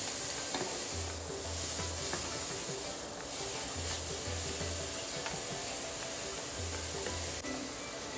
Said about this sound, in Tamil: கேரட்டை ஒரு கலர் கிளறி அதில் நம்ம சர்க்கரையை சேர்த்துக்கலாம்